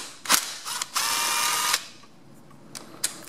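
A socket ratchet loosens 10mm bolts on a Japanese dirt bike's valve cover, giving short bursts of rapid close clicking, one longer whirring run, then a few scattered metallic taps.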